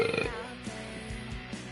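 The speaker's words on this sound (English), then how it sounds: "Belch." A man lets out a single burp lasting about a second, followed by faint murmuring in the background.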